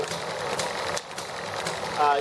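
A small generator motor spun by hand, giving a steady buzzing whir with faint rattling throughout, louder toward the end, with people talking nearby.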